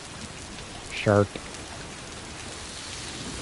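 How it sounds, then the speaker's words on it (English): Steady, even rain hiss fills the scene throughout in the Death Stranding 2 video game, broken briefly by a short voiced exclamation near the one-second mark. "Oh no, it's raining."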